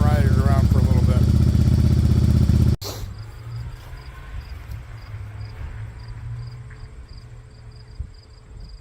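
A Yamaha Virago 750 chopper's engine idles high with a low, steady drone, following a few seconds of loud, dense sound at the start, with faint high chirps layered over the hum.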